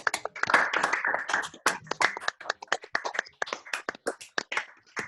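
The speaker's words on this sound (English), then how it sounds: "give our speakers the round of applause and the thank you that they deserve" Online audience applauding the speakers at a climate action assembly: scattered, distinct hand claps from a few people, uneven in rhythm and fairly quiet, with little talk.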